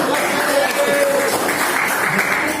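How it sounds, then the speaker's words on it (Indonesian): Steady applause from a class group fills the space, a continuous wash of clapping with a voice faintly underneath. "tepuk tangan untuk yang nawar"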